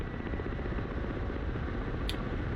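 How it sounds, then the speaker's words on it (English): Ka-50 Black Shark attack helicopter in flight within a simulation game: a steady, dense rotor and turbine drone holding at an even level, with a brief high click near the end. "So you can just fly this how you would fly a regular helicopter."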